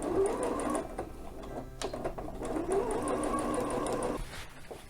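A sewing machine runs a quarter-inch seam along the edge of a single fold welt pocket in two steady whirring bursts separated by a short pause, close by with a faint high whine.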